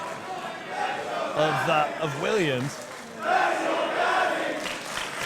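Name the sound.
wrestling crowd shouting and chanting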